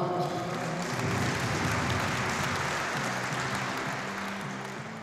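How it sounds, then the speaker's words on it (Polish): Sustained applause from a crowd gathered to praise a local football club, a dense steady wash of clapping that slowly fades slightly over a few seconds. "Brawa, brawa."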